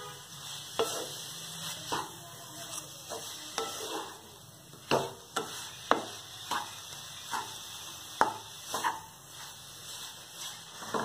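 Jaggery stuffing mixture stirred in a pan on the stove for an Odia sweet, with repeated soft scraping strokes and light taps from the spoon, steady and close, with a faint sizzle underneath.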